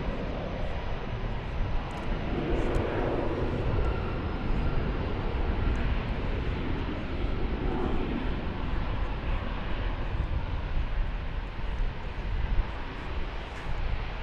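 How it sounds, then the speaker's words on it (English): A Spirit Airlines Airbus A320 on approach at DFW Airport makes a steady, broad jet roar that holds at an even level throughout, loud and sustained with no voices. "Spirit Airlines flight 3052 from Fort Lauderdale is on approach. It'll be an Airbus A320."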